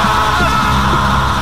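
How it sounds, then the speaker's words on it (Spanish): A loud, raw scream of terror rings out as a dramatic sound effect in a Spanish-language mystery story, one sustained yell lasting about a second and a half, harsh and close with no talk over it. "Un grito africano de terror sonó en la montaña."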